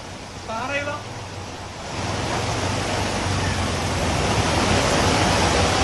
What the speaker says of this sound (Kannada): ಕುಕ್ಕೆ ಸುಬ್ರಹ್ಮಣ್ಯದ ಕುಮಾರಧಾರ ನದಿ ಅಬ್ಬರಕ್ಕೆ ಸ್ನಾನಘಟ್ಟ ಮುಳುಗಡೆಯಾಗಿದೆ.